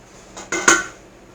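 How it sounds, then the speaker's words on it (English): Metal spoon scraping and knocking inside a soup pot of diced potatoes, two or three quick clinks in a short burst, close and fairly clear, with no talking. "I'm going to give it a stir"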